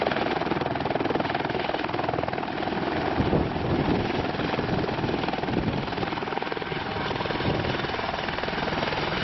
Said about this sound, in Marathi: सकाळी 10:30 सुमारास डोणेगावमध्ये हेलिकॉप्टर दाखल झालं.